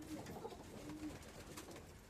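Pigeons in a loft give a few soft, low coos, faint and close against a quiet background hiss.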